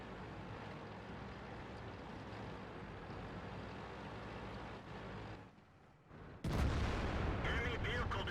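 World of Tanks gameplay, a sustained rumbling backdrop of distant tank and artillery fire, then after a brief dip a louder, closer booming burst of cannon fire that keeps rumbling.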